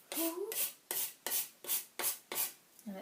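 A micro cheese grater rasps across a plaster printmaking surface in six steady, rhythmic strokes, close and fairly loud with brief pauses between them.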